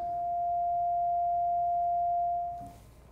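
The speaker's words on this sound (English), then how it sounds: "I'm going to begin with the first tone of the number one on a keypad." A single steady pure sine tone, the first tone of a keypad digit one, holds for about two and a half seconds, then cuts off, leaving faint background hiss.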